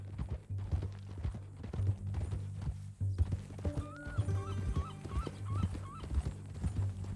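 Horse hooves clip-clop at a steady walking rhythm in Red Dead Redemption 2, close and moderately loud, with a few short whinny-like tones partway through.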